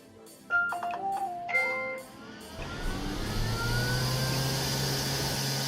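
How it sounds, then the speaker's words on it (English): A Neato Botvac D3 robot vacuum, recently repaired, plays a short series of rising electronic boot-up chimes. Its suction motor and brush then spin up into a steady, fairly loud whirring hum that continues alone. "I always love the Neato booting up sounds, and even the sounds of the suction motor and the brush"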